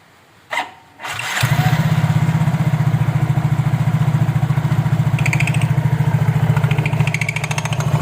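A scooter engine fires up after a brief crank and settles into a loud, steady, rapid idle putter close by, with the rear belt and pulley cover opened.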